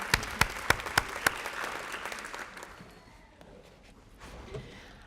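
Applause for honored teachers at an awards ceremony, a few sharp distinct claps up close over a crowd clapping that fades gradually to quiet room murmur.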